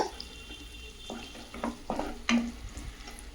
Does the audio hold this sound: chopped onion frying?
yes